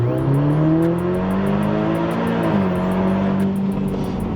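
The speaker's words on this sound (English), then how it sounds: "The launch is a lot harder now than it used to be." An Audi TTS 8J second generation with a 034 Motorsport DSG tune launches hard, its engine roaring loudly as revs climb steadily and shift once, with a close, continuous rasp throughout.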